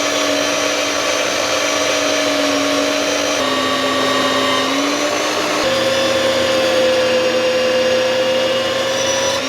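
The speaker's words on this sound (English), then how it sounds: "Now I'm gonna cut them out with my little bandsaw." Small bandsaw cutting black plastic, a loud continuous motor whine with a steady high-pitched tone that shifts slightly in pitch as the cut progresses, close and unbroken.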